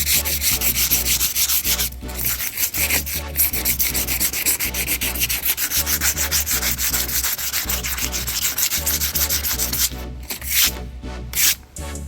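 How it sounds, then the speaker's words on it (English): Steady abrasive sanding of an OBS truck body, a continuous rough rubbing that runs nearly unbroken, with a few brief harsher scraping bursts near the end. "Sanding it down."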